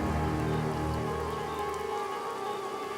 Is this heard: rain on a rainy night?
yes